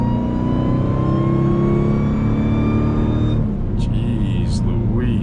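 Loud, close engine roar from a 1000 hp Dodge Durango Hellcat in track mode, climbing in pitch as it revs and then shifting, with a voice heard over it.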